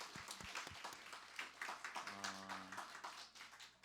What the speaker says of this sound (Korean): 감사의 박수를 좀 드리도록 하겠습니다